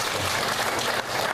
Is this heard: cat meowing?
no